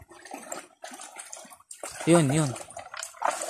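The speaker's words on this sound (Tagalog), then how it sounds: "Guys, ang lakas ng agos." A strong river current rushes past at a crossing, a steady close wash of water heard under a voice.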